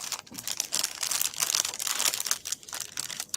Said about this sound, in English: Give them all a good shuffle.